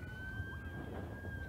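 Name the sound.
siren in the background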